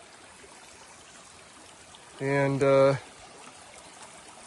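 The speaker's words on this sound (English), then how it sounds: "I'm gonna be crossing this bridge here over this nice little stream" A small stream flowing under a trail bridge on the Appalachian Trail, a soft continuous trickle and rush of water throughout, with a voice briefly speaking over it in the middle.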